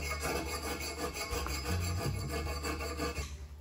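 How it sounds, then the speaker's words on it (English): Silver solder being filed off a bicycle fork during framebuilding, a steady close rasping rub of file strokes on metal repeating through the clip without talk. "I'm filing off what's left of the silver solder"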